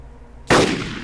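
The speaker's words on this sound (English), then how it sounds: "Is that you shooting at him? It's me shooting at him, yeah." A single loud gunshot cracks suddenly out of quiet in the Arma 2 DayZ Mod (Epoch), its echo trailing off over the following half second.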